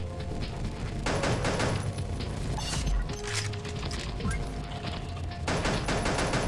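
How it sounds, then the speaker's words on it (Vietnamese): Rapid bursts of weapon fire from a flamethrower in the shooter game Pixel Gun, dense loud crackling fusillades with short gaps between volleys and booming low thumps. "Flame throw, nó dùng súng lửa anh em ạ"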